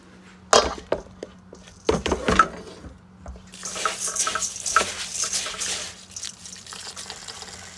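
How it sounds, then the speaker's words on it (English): Rice being washed and soaked for jollof rice: water splashes and runs into a bowl, with a few sharp knocks early on, then a steady, close, rushing flow of water. "This is my rice. I'm coming to wash it and soak."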